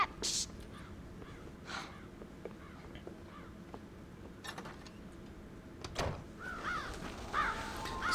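Crows caw repeatedly in Red Dead Redemption near a corn silo on a farm, sharp harsh calls scattered over a quiet outdoor ambience, with a few brief louder bursts of other sound.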